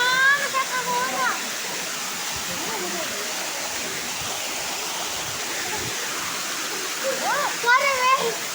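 A waterfall roars in a loud, constant wash of splashing water heard up close, with excited voices calling at the start and end.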